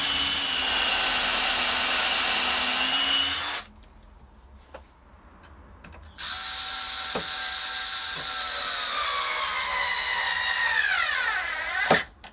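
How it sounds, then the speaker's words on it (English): A power drill bores holes through a pegboard top for a homemade downdraft sanding table, with two loud sustained whirring runs separated by a quieter pause with small clicks, and a sharp rise in pitch at the end. "I'm going to drill these holes in. I'm going to do 2 holes in each end."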